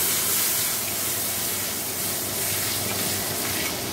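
Tomato and chili sizzle in hot oil in a pan where fish has been fried. The loud, steady frying hiss runs through the whole stretch with no talk.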